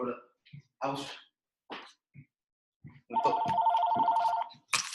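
A telephone rings with a bright trilling electronic tone for over a second, after bursts of people talking nearby.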